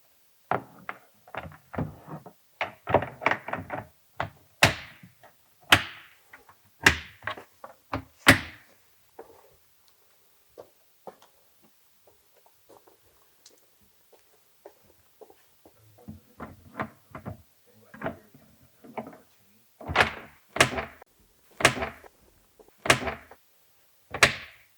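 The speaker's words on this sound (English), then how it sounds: "Line up the hinges with the hinge plates and lock them in place." Metal locker cabinet doors are hung during assembly as their hinges lock into the hinge plates, giving close, sharp clicks, taps and hollow thunks in irregular bursts with quiet gaps between, with no talking.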